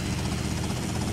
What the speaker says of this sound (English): I found a helicopter.